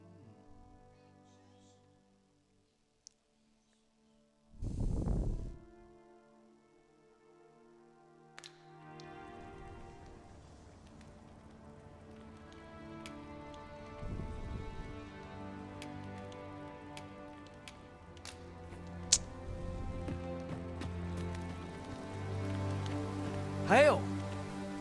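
A meteor shower spell cast in the fantasy game Dragon's Dogma 2 lands in a burst of impacts at about five seconds, then crackles and rumbles under sustained game music with scattered sharp hits.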